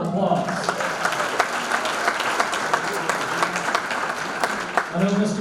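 An audience at the 2023 St. Joseph Area Sports Hall of Fame ceremony claps steadily in a dense, moderately loud wash, with a voice speaking over the start and end.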